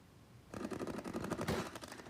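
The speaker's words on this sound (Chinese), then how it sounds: "向目标区连续开炮，阻挡敌军进犯，现场炮声隆隆" Artillery and armoured vehicles of the Army's Kinmen Defense Command fire live rounds at a target area during an exercise. A rapid string of muffled bangs sounds faint and distant.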